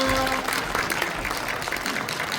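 An audience claps warmly at a book concert in the Yeongju civic hall as a guest is invited onto the stage. Thick, continuous applause is briefly joined by faint tonal music at the start.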